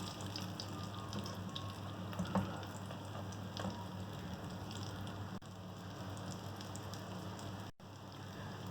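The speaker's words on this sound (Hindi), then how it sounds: "दूसरी तरफ से भी हमें तकरीबन 3-4 मिनट फ्राई करना है लो हीट पर" Egg kebabs fry in a pan on low heat, giving a soft, steady sizzle and crackle with a few faint pops, quiet and continuous.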